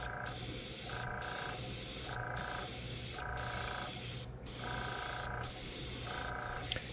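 An airbrush with a 0.3 mm needle sprays paint onto a topwater popper fishing lure in short regular bursts, a steady close hiss pulsing on and off about once a second over a constant compressor hum.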